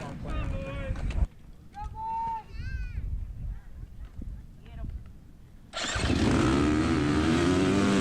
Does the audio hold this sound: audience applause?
no